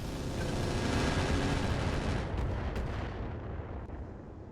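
Mech weapons firing in RogueTech, a BattleTech game: a dense, rumbling barrage of heavy booms and blasts rolling together, loud and sustained before thinning into a fading roar with a couple of sharper impacts.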